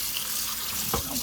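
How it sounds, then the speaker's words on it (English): A tap runs steadily as soap is rinsed off a piece of gold after an ultrasonic cleaning, a close, continuous hiss of water with a brief splash near the end. "Rinse all the soap off of it."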